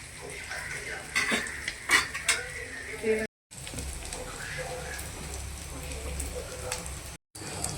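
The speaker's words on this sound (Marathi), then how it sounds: "ही गाभोळी आता एक साईडने फ्राय करून झाली. आता ही दुसरी साईड पलटून घेतली" Gaboli fish roe fries in a pan and is flipped to its other side, a soft sizzle under clattering utensil handling and scraping, with two brief dropouts.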